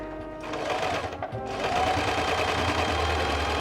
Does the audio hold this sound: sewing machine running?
yes